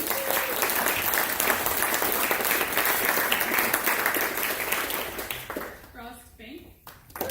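Loud, dense audience applause at a nature-themed fundraising gala, filling most of the clip and thinning out near the end as a voice begins speaking.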